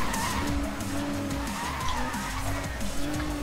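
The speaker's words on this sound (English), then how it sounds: "Let's see if I can get my drifting to work." A car drifts in Need for Speed Most Wanted (2012), its tires squealing in a sustained, wavering whine over a throaty engine drone throughout.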